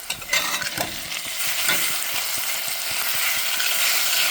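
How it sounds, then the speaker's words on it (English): Peppers are stirred into yuca sautéing in a pan, with a loud, continuous sizzle and a rapid run of light scraping ticks from the spoon against the pan. "so now I will add my peppers and stir."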